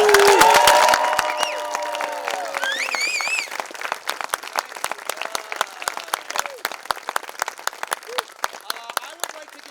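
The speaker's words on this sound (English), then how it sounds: "Can we give them one more big round of applause?" Audience applause for child actors in a Shakespeare Kids staging of Love's Labour's Lost by Mammoth Lakes Repertory Theatre: loud sustained clapping under an adult voice at first, then scattered claps and crowd murmur.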